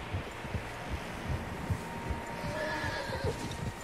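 Horses in the video game Red Dead Redemption 2 give a neigh over steady hoof clip-clop and a low ambient rumble, with the sound moderately faint and no speech.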